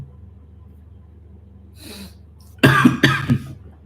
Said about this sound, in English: This cough I have to do